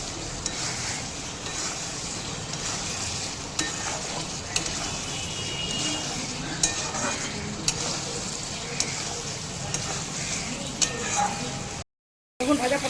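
Pointed gourd (potol) pieces stir-fried with spices in a pan, a steady close sizzle running throughout with occasional scrapes and clicks of stirring, then a brief cut near the end.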